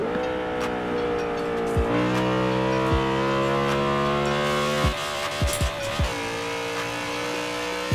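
BMW E92 M3 engine in Forza Horizon 4, loud and close, revving and pulling hard through the gears with rising tones and sharp drops at each shift.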